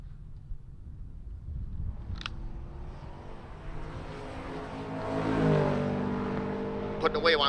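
A naturally aspirated small block Chevrolet Nova drag car launches at a Great Bend, Kansas strip against another car, its engine roar rising to a loud peak and then easing off, with faint talk underneath.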